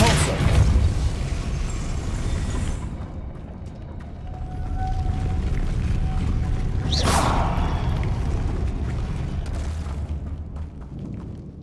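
A Depulso spell is cast in the Hogwarts Legacy video game, a single sharp whooshing burst landing midway through a steady low rumble of game ambience.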